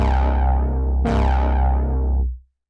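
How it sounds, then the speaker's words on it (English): A thick Sylenth1 synth pad sounds loud and sustained, rich and buzzy, with a second bright attack partway through that slowly darkens as its tone closes down before the note cuts off. "we've instantly made an interesting and somewhat evolving thick pad sound like this"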